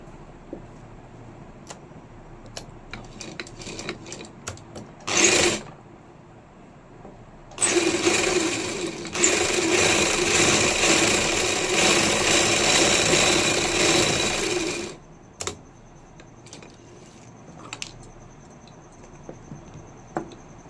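A sewing machine stitches a kameez sleeve in two bursts, a short one near the start and then a sustained run of about seven seconds, with soft handling sounds around them and no talking.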